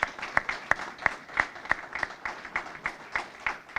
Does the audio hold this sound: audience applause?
yes